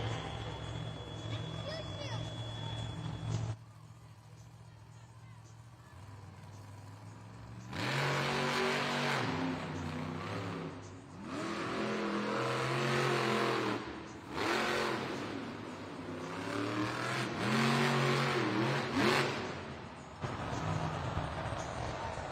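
Monster Jam monster truck engine revving inside an arena during a full event, loud roaring bursts rising and falling with crowd and announcer talk throughout.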